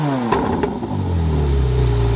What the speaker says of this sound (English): So I'll give it a quick rev, so have a listen to this.